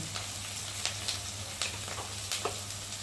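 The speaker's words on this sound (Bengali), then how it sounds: "দিয়ে মশলাটা ভালোভাবে কষিয়ে নেব।" A spice mixture of turmeric, chili powder and salt fries in a pan with a low steady sizzle, broken by a few sharp stirring clicks and scrapes spaced through the short clip.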